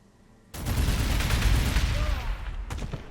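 Reaction fire in the Warhammer 40K Gladius strategy game, a sudden dense burst of gunfire and explosive crackle that starts abruptly and rumbles on steadily, ending with a few sharp final shots.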